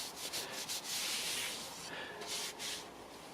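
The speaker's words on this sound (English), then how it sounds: "just rub it in" Steady hand rubbing of an oil finish into a wooden sword, a continuous soft, close friction hiss that swells and eases in strokes, with no talking.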